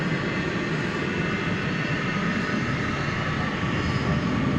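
A jet airliner with an engine mounted in its tail roars steadily at DFW Airport, a loud, continuous broadband rumble with a faint whine that holds at the same level throughout.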